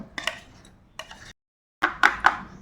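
A tiffin box filled with poured sandesh mixture is tapped on a surface in three quick bursts of knocks, with light metallic clinks, close and moderately loud, separated by short silences.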